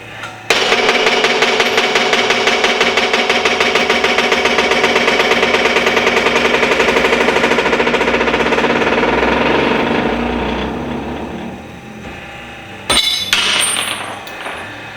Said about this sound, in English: you'll see that was a little bit of a violent pressing operation